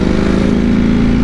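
A Ducati V4S motorcycle's V4 engine runs steadily and loudly up close, a dense, rumbling drone with a low throbbing pulse and no talk.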